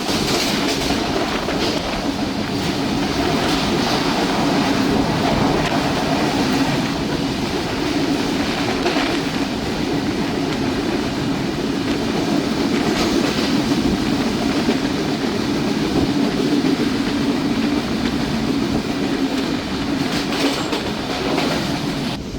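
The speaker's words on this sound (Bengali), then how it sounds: "বৃষ্টির মধ্যে উপভোগ করুন বনলতা এক্সপ্রেসের আজিমনগর থ্রুপাস" Banalata Express passes through Azimnagar station in the rain at speed, a sustained loud rumble with steady clickety-clack of wheels over rail joints and a faint squeal, no one speaking.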